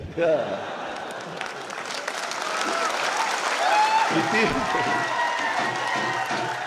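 Audience at a political speech in Maharashtra claps in a dense, sustained burst of applause that swells midway, with someone talking over it.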